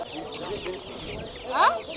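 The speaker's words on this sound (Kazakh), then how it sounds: "Әдемі тауықтар, Брамс, Адлер." Chickens, including Brahma and Adler breeds, cluck over a busy background at a poultry market in Kyzylorda, with one louder, sharper squawk near the end.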